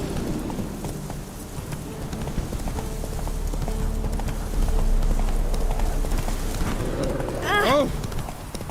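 Roach, a horse in The Witcher 3: Wild Hunt, gallops with a steady rapid clip-clop of hooves under continuous game ambience, and a brief rising swoosh near the end.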